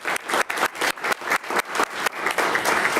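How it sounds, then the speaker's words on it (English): Audience at a Yankton city commission meeting applauds, a small group clapping with distinct individual claps in an uneven rhythm, fairly close, with no talking. "let's give her a round of applause to folks"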